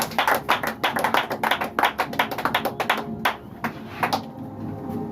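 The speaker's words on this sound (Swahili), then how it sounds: "Piga Bwana Yesu na makofi." Congregation at a Swahili-language Christian church service clapping hands, a quick run of sharp, uneven claps close by that thin out toward the end, with faint voices underneath.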